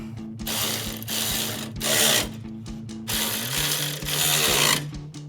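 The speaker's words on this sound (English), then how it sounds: "So now I'm just gonna bolt her all down." A ratchet spins in quick rhythmic bursts while bolting down a Mishimoto transmission cooler bracket on a 1999-2013 Silverado 1500, loud and close with short pauses between runs of clicking.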